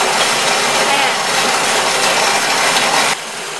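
Rice grains ground into flour in a kitchen blender at its highest speed setting, a loud, steady whirring roar that holds throughout, then drops slightly in level near the end as the load changes.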